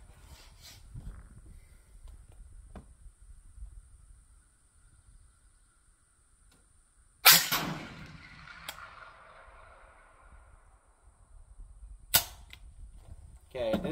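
Rifle fired at targets 200 yards away on an outdoor shooting range: two sharp, loud single shots several seconds apart, each with a short ringing tail, over a quiet background with faint handling noise.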